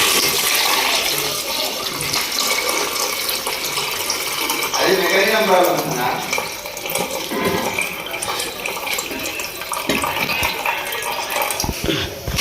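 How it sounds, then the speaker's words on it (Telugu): Tamarind juice poured into a curry pot with ginger, garlic and chillies, a steady loud splashing liquid flow running throughout, with a brief voice partway through. "ఇప్పుడైతే చింతపులుసు పోసేద్దాం."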